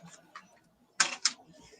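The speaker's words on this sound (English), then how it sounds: "Got me typing again." A few quiet keyboard clicks sound close by, with two sharper keystrokes near the middle standing out against near silence.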